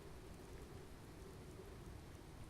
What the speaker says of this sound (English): Raining. Typical.